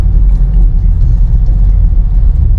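Toyota Veloz 2024 cruising on the road toward Wonosobo, heard from inside the cabin after all-body sound deadening: a steady, loud low rumble of engine and road noise with no break and no talk.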